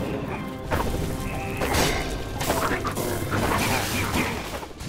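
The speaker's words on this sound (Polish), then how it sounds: "Ładnie pioruny idą." Loud crackling crashes and booming lightning strikes hit in quick succession over a dense, noisy Minecraft Dungeons game soundscape.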